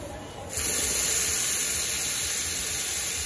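Food dropped into hot oil on a farm kitchen stove, a sudden loud sizzling hiss that bursts in and holds steady and close.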